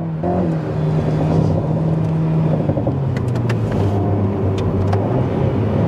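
An Alpine A110 R sports car driven in sport mode, its engine note droning steadily from inside the cabin and shifting pitch as the car accelerates and settles, with a few faint clicks partway through.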